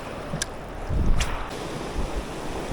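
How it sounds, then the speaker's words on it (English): Rough water slaps and surges around a fishing boat out on the water, with steady wind buffeting the microphone and a couple of louder splashing bursts rolling through, no voices. "water's getting rough here"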